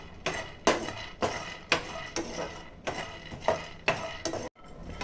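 Raw peanuts dry-roasting in a kadai, stirred with a spatula: a steady series of scraping, rattling strokes repeating roughly every half second, close and moderately loud, with no voices.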